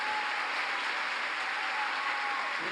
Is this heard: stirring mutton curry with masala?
no